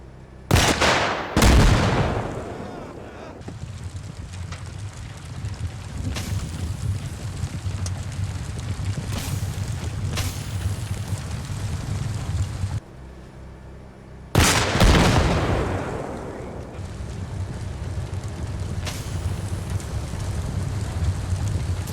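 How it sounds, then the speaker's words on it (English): Rockets fired at an LAV armoured vehicle in Arma Reforger, each launch a sharp loud blast followed by a rolling rumble. Several heavy bursts come at irregular intervals against a constant windy outdoor background, with no voices. "fire some rockets at this bad boy"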